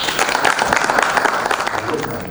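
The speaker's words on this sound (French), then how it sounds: "j'aimerais bien que vous puissiez applaudir, s'il vous plaît, notre président du jury, Vincent Santamaria" Festival audience applauding the jury president, Vincent Santamaria, at a press conference for an international film festival, a short, dense burst of clapping from a roomful of people with voices mixed in.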